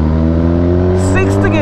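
A Suzuki Katana's inline-four motorcycle engine hums steadily at low speed in sixth gear as a roll-on begins, loud and close, with someone talking over the engine near the end.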